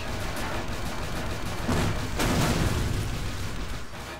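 Repeated booming explosions in the video game Intrusion 2, dense and loud, with two heavier blasts surging near the middle over a constant rumbling din.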